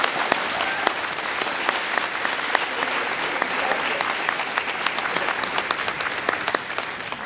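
Steady audience applause at a high school awards ceremony at Black River Public School, a continuous dense clapping from a large crowd with sharp individual claps standing out, holding level throughout.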